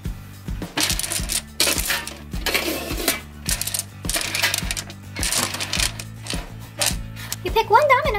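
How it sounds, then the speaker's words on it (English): Plastic Disney Princess dominoes rattle and click against each other while being shuffled on a tabletop, bursts of dense clattering over background music, ending with a brief high tone. "And you shuffle them around."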